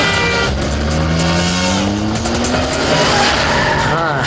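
A car brakes hard with a long, loud tyre squeal and skid rising over engine roar, all in one continuous burst.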